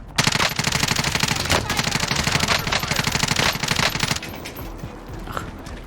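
A Groza rifle fires in Call of Duty: Warzone: a loud, steady stream of rapid automatic shots lasts about four seconds, then stops and leaves quieter in-game ambience.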